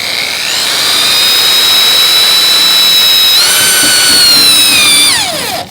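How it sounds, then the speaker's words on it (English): A loud, steady high-pitched whine of a step drill bit biting through Jeep Cherokee XJ body sheet metal, pitch shifting upward as it steps to a larger size, then winding down. "it's kind of beneficial to drill through the sheet metal too"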